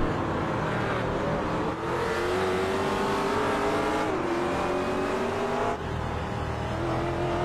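A McLaren race car drives during a race, its engine a loud, sustained high-pitched whine that rises and shifts in pitch as it accelerates and passes.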